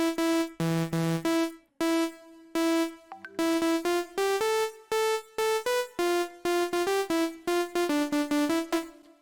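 Future house super saw synth with tube distortion plays a choppy, rhythmic chord pattern in short stabs and held notes, bright and buzzy, loud and alone.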